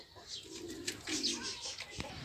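Homing pigeons cooing softly nearby, low repeated murmuring coos over a steady background hiss, with a few faint chirps and light rustles.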